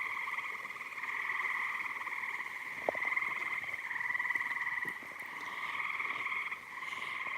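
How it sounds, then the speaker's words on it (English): A leopard frog calls at night in a steady rattling croak like a finger run along a comb, repeated continuously at close range with brief pauses, other faint calls behind it. "the leopard frog that sounds like you're running your finger up a comb"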